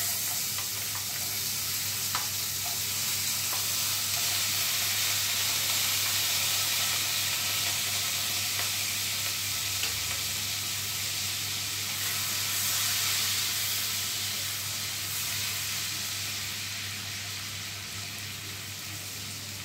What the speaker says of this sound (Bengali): এবার আমি এই যে কিছু জিনিস কেটে রেখেছি এগুলো একে একে কড়াইতে দেব। প্রথমে দিয়ে দিচ্ছি কেটে রাখা পেঁয়াজটা।